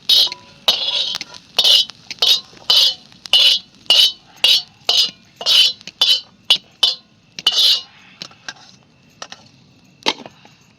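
A spoon or spatula scrapes and clinks against a pan over a wood-fired chulha while fried green chillies are lifted out, a fast run of about a dozen crisp, close scraping strokes that thins into a few scattered taps, with no talking.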